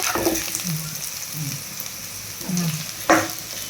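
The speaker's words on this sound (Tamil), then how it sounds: "ரெண்டு பச்சை மிளகா கட் பண்ணி வச்சுருக்கேன் அதையும் ஒரு கொத்து கருவேப்பிலையும் சேர்த்து நல்லா பரட்டி விட்டுக்கலாம்" Green chillies and a sprig of curry leaves stir-fry in oil in a pan for Thanjavur-style goat intestine koottu, a close steady sizzle broken by several scraping stirs and a sharp pop near the end, with no talking.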